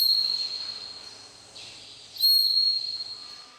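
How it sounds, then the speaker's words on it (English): A zookeeper's whistle used to guide and condition elephants, heard as a thin sustained high tone in two short blasts, the second louder, over faint outdoor background with no talk. "with the use of a whistle, as it helps condition them to form quick responses"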